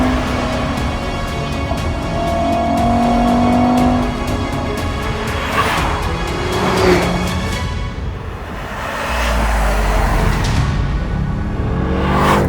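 The Audi RS3's 2.5-litre five-cylinder engine pulls hard through the gears, its revs rising with brief shift breaks, loud and close, with a deeper rumble toward the end.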